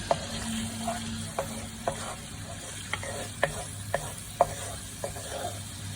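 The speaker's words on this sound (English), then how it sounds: "Now I'm gonna mix it." A spoon stirs food in a pan over low sizzling, giving a steady run of sharp scrapes and clinks, about one each half second. The scrapes are close and fairly quiet, and no one talks.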